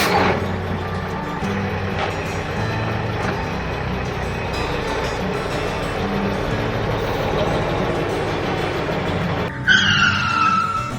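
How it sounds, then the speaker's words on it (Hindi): A truck driving off with a continuous engine roar and rolling tire noise, loud and close, ending in a brief squeal and chirpy sound effect. "चलो ट्रक गाड़ी अब जल्दी से आगे चलो।"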